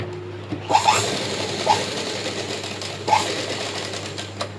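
A well-worn, fairly loud sewing machine stitches a blouse with a steady close hum, broken by a few sharp clicks.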